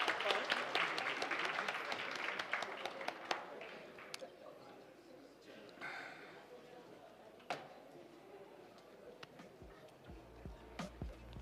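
Audience applause at a labour law seminar, a burst of dense clapping that thins out to scattered claps, with voices talking as it fades.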